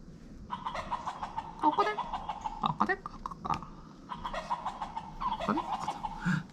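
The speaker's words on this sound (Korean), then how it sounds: "암탉들이 맛있는 지렁이를 찾아 바쁘게 왔다 갔다 해요" Hens cluck and chatter in short bursts, fairly close, with scattered squawks and quiet background noise between calls.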